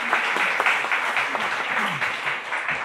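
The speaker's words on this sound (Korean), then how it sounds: "박수로 환영해 주십시오." A church congregation claps to welcome a missionary during Sunday worship, steady applause filling the room for about three seconds with no talk over it.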